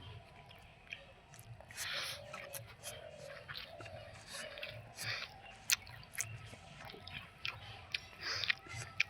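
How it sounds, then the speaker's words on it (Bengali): Someone eats rice with vegetable curry and chews softly up close, with moist squishing bites and a few light clicks over a faint background hum. "বন্ধুরা খাওয়া শুরু করে দিলাম"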